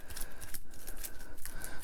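Warhammer Quest game cards being shuffled by hand at a tabletop, a steady papery riffling and swishing with repeated soft snaps across the short stretch, close and moderately quiet with no talking.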